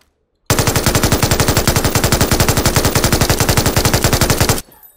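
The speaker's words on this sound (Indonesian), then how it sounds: "Selanjutnya kita akan mengetes fire rate dari senjata MG3 ya." MG3 light machine gun fired in PUBG, one long unbroken burst of rapid, evenly spaced automatic shots, loud and close, lasting about four seconds before stopping abruptly.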